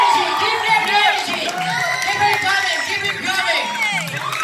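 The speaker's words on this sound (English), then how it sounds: "Can you give that big round of applause, guys?" Crowd at an old-school open-style dance battle, loud and close, with whoops, shouts and cheering voices over some clapping in a lively, continuous roar.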